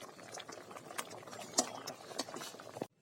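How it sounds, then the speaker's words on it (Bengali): Whole dal lentils boil in a cooking pot, a close, quiet, steady bubbling with soft irregular pops and gurgles running throughout before it cuts off abruptly. "ডাল বসাই দিচ্ছি, ডাল প্রায় সিদ্ধ হয়ে গেছে।"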